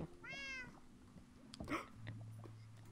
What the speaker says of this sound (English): The cat just jumped in the water.